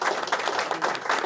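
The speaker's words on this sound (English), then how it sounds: "do a huge round of applause for Tony, who's sat in the corner" An audience claps in a brewery tasting room during a live event, dense fairly quiet applause with rapid overlapping hand claps that stays steady throughout.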